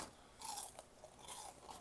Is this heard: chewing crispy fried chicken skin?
yes